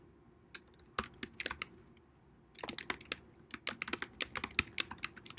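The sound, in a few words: typing code on computer keyboard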